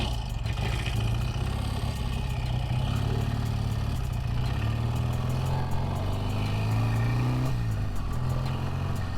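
A 1971 BSA 650 Lightning, a British parallel-twin motorcycle, droning steadily while being ridden, its engine note rising and falling through gear changes at close range with wind noise over the top.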